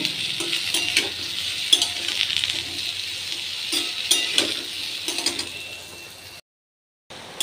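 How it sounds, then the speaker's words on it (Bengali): Potatoes frying in a pan for a Bengali poppy-seed dish, a steady close sizzle with occasional stirring clicks, dropping out briefly near the end before returning. "আলুগুলো একটু লাল লাল করে ভেজে নেব।"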